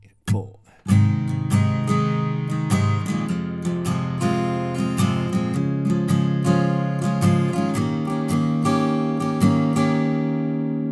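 Acoustic-style guitar strums the intro chords of a Christmas song, with a short count-in tap, then a steady series of bright strummed chords, one per chord change, played up close.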